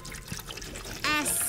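Vinegar poured into a container for an egg-shell acid experiment, a short bright trickling stream starting near the end and running steadily, close and fairly loud after a stretch of quiet room sound.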